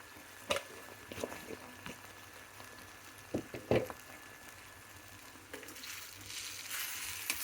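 Tempering spices in hot oil give a faint, low sizzle, with a few sharp clicks and knocks of utensils and a brief swelling hiss toward the end.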